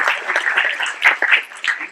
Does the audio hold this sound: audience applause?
yes